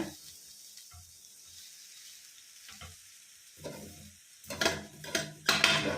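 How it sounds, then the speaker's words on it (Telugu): Pumpkin halwa stirred in a pan, soft scraping strokes at first, then louder bursts of sizzling and stirring toward the end, close by and without speech. "అలాగ కలుపుతూ ఉండాలి కంటిన్యూగా"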